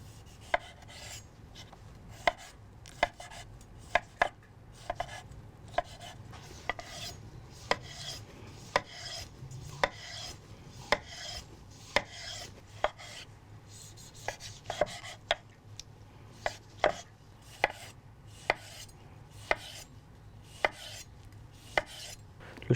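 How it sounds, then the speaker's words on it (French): A knife dices tomatoes on a cutting board in a kitchen, a steady run of crisp, close chopping taps, some quick and some spaced, with no talking. "Et je vais les couper en dés."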